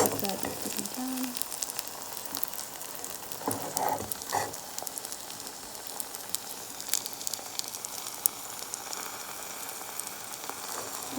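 An omelette with collard greens fries in a pan with a soft, steady sizzle and crackle, fairly faint, plus a few brief louder pops.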